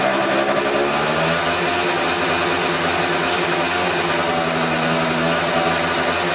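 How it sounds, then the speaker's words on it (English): Scooter engine revving steadily after an idle mixture screw adjustment, a constant mid-pitched mechanical hum with harmonic drone, close and loud throughout with no talking. "you can see that the rev has climbed a lot, meaning the mixture is nearing perfection"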